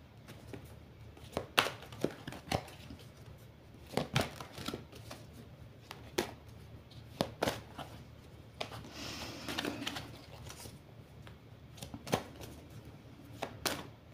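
Tarot cards are shuffled and cut by hand up close, with a run of quiet, irregular riffling snaps and soft taps, and no voices.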